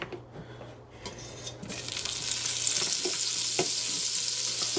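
Butter melting into avocado oil in a hot pan, a steady, close frying sizzle that builds after a quiet start and holds as a bright, continuous crackle with no talking.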